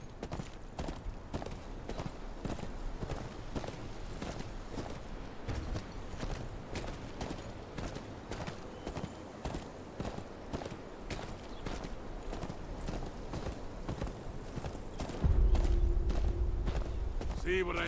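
Horse hooves clip-clop at a steady walking rhythm in the video game Game of Thrones: Kingsroad, moderately loud throughout, with a low droning hum joining near the end.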